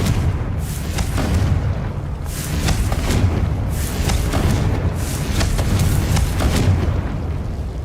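Repeated Confringo explosive spells are cast in the PC game Hogwarts Legacy, producing a series of loud booming blasts about every second or so over continuous rumbling battle noise.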